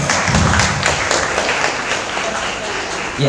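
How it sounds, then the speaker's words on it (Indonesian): A live audience at an Islamic fair talk show and grand closing breaks into loud, close applause, a dense crackle of many hands clapping steadily for a few seconds without letup. "Oke, kasih tepuk tangannya dong."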